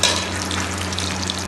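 Onions fry in a pan with a loud, steady, close sizzle that hisses evenly throughout before cutting off abruptly at the end.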